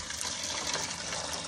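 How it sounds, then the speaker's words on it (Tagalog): Hot water pours steadily in a continuous gushing stream over fresh oysters that have been scrubbed and rinsed, fairly quiet and close. "Lagyan natin ng mainit na tubig"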